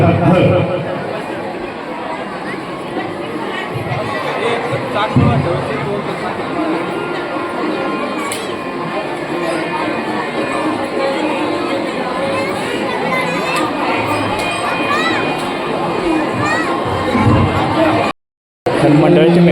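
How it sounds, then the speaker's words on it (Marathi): A huge crowd packs an open ground at a Raas Kreeda festival, producing a loud, continuous babble of many overlapping voices that runs throughout with no breaks beyond a brief dropout near the end. "गर्दी देखा आडमाप गर्दी"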